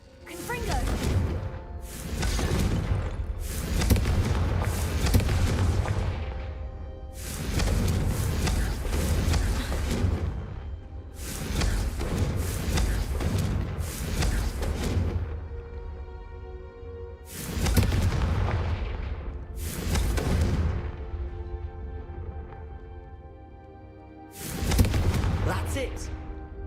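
Blasting spells explode candelabras in a Harry Potter video game, a series of loud booms and crashes in bursts with pauses between, mixed with speech.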